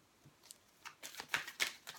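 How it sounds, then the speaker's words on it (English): Tarot cards being shuffled by hand, a short burst of soft, quick riffling clicks that starts faint and grows a little louder, close and alone. "So let's just continue shuffling."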